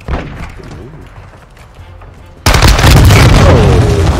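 A grenade blast in Call of Duty Modern Warfare 2 on the Shoot House map: quieter game ambience first, then a sudden loud explosion that gives way to sustained booming gunfire and rumble.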